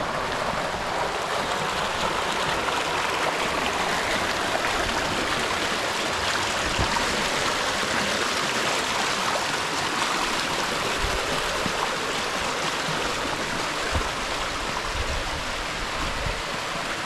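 Waterfall in the Glinščica valley roars with a constant, dense rush of falling water, heard close and steady throughout without voices.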